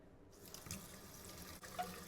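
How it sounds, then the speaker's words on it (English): Hot water running from a tap through a sink trap, a soft steady trickle with light drips, faint and close, no talk. "You just run hot water through it."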